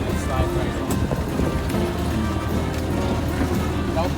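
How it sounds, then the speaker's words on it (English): A Ford Model A engine is revved in neutral during a downshift, a loud, rough rumble that holds steady for a few seconds in a running car, with a voice talking over it. "I'm going to push the clutch in, put it in neutral, rev, and it slides right in."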